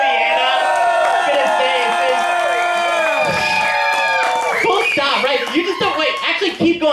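A comedy showcase crowd cheers for the comedian's wife Leanna, loud sustained whoops and shouting voices with scattered clapping that break into choppier yells toward the end.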